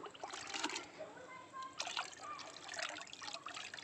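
Fermented carrot juice diluted in water is poured onto plants in a rooftop garden, quiet trickling and splashing in short bursts, with a person talking over it.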